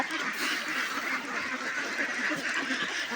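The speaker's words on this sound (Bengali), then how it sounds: "আমার এই খামারটায় হাঁস রয়েছে সাড়ে পাঁচশো দেখতেছেন সবগুলো হাঁস চলে আসতেছে" A large farm flock of around five hundred and fifty ducks quacking in a dense, continuous chorus while being fed paddy grain, steady and loud throughout with no pauses.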